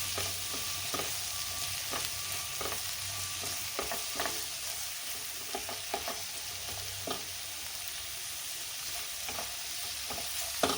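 Chopped vegetables for a vegetable sandwich sizzle steadily in a hot pan, with scattered utensil knocks and scrapes as they are stirred; close, continuous and without talk.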